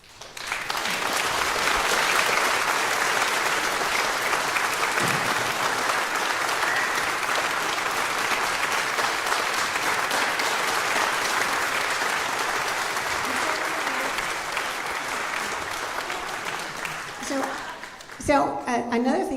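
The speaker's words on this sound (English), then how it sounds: "I would like to clap for her parents." Sustained, dense applause from an audience at a children's choir concert, steady and full for most of the stretch before fading into scattered claps and murmuring near the end.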